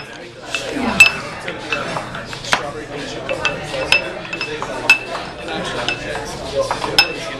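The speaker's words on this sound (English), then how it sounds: "Take and muddle all this up." Limes and simple syrup muddled in a glass, with irregular clinks, knocks and scraping taps of the muddler against glass, close and moderately loud, with faint background chatter.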